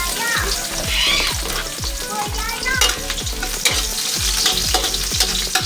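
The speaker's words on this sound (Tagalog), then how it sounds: "So, igisa natin yung ating bawang sibuyas." Garlic and onion sauté in hot oil for adobo, a steady close sizzle punctuated by regular, rhythmic stirring strokes scraping through the pan.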